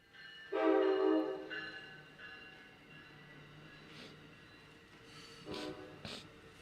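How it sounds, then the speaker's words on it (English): A passing train heard from indoors, a horn-like tonal blast followed by rumbling and squealing rail noise that fades and swells, moderately distant with no speech. "Sorry, this train."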